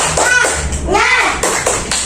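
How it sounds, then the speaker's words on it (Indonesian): Schoolchildren in a primary science class do a rhythmic spirit clap, with sharp patterned claps mixed with chanting children's voices, close and lively. "Oke, kita tepuk semangat dulu ya. Tepuk semangat."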